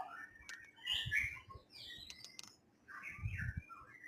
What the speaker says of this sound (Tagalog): This is my favorite bird.